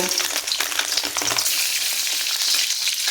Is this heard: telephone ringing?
no